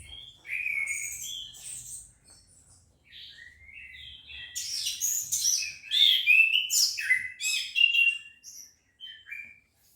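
Orange-headed thrushes kept in cages at a breeding setup sing loud, varied phrases of whistles, trills and chirps, growing busier and more overlapping in the second half, with faint low background noise underneath.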